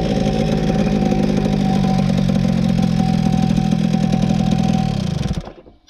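A Mobylette moped engine idles steadily and close by after pulling to a stop, then sputters out and cuts off near the end.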